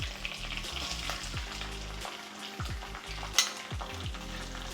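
Garlic cloves fry in a pan with a steady, close sizzle and crackle, a few brief stirring scrapes breaking through. No one speaks.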